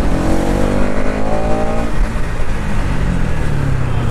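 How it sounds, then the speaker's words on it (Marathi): Road traffic heard while riding a Pulsar NS200 motorcycle near Panvel: loud, continuous engine and tire roar with a vehicle's pitch gliding down as it passes, no talking. "ये ट्रैफिक इस रोड पे नॉर्मल है"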